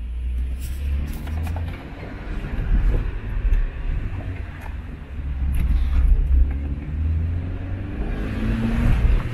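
A 2001 Opel Astra Cabriolet with a 2.2 engine drives along, its steady low road rumble and engine drone rising and falling slightly with speed, heard alone without talk.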